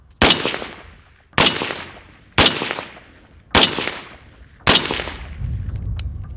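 Five loud rifle shots from a designated marksman rifle ring out one at a time at a slow, steady pace. Each crack decays quickly before the next, and a low rumble follows the last.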